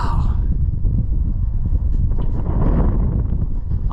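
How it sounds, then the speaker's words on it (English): Strong wind buffeting a microphone on a mountain summit, a loud continuous low rumble with gusty surges and no clear pauses. "It is windy up here"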